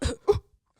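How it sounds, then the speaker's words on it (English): A person fakes a cough while pretending to smoke, two short throaty bursts close together, close and fairly loud, with a faint trailing breath after. "You're like pretending to cough"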